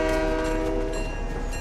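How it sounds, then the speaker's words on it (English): A train passing in an online shooter game, loud and close, with a sustained horn tone over rumbling rail noise for the whole stretch. "Never mind, it's just the train."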